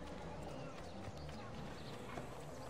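Horse hooves clip-clop steadily in the video game Assassin's Creed II, a continuous soft trotting patter under a dense game soundscape with faint voices mixed in.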